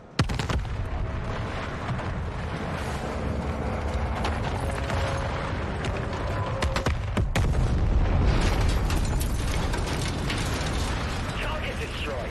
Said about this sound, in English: The only thing that felt immersive was the over-the-top cinematic explosions